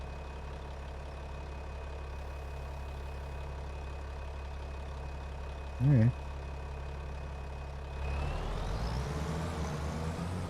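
A farming video game tractor engine idles with a steady low hum and then revs up louder near the end, while a voice speaks briefly over it.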